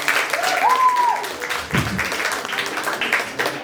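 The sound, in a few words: audience applause for earlier comedians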